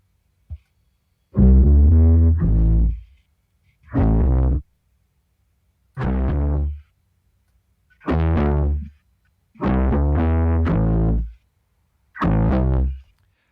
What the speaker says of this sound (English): I'm going to push it all the way to the end, and you'll hear how it'll distort the bass.